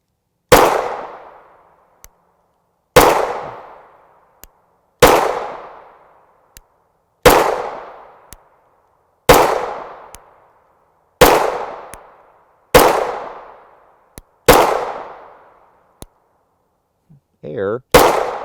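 Nine-millimetre 100-grain JSP rounds fired from an A-Rex Delta Gen 2 long-slide pistol with a 4.5-inch barrel, about eight sharp, loud single shots at an even pace of roughly one every two and a half seconds, each ringing out briefly.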